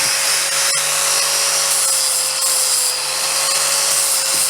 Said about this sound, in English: We're just going to take the burrs off these legs.